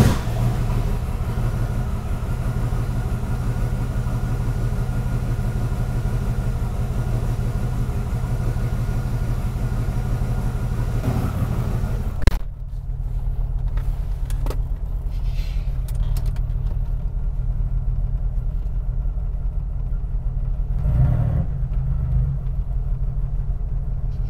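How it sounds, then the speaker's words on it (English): A turbocharged car engine rumbles steadily at idle throughout, with a brief sharp click midway after which the broadband noise drops away, leaving a lower steady idle hum. "Let's go ahead and fire it up, see if we can get this thing to idle."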